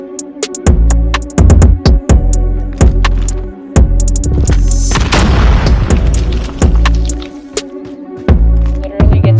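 Loud, booming shots ring out repeatedly in a shooter video game during a sniping exchange, with sharp reports in an irregular rhythm and a denser burst midway through.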